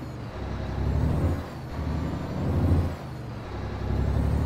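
Truck engine idling with a newly fitted motor in Euro Truck Simulator 2, a deep steady rumble that swells and eases slightly in a slow cycle, loud and continuous with no voices.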